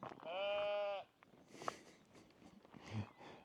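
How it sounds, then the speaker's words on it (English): Sheep bleat loudly and close by in one sustained, wavering call, followed by quieter rustling, shuffling and fainter farmyard movement. "I'm being joined by my sheep friends now as well"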